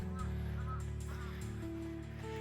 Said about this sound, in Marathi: इकडच्या कावळ्यांचा आवाज पण वेगळा आहे.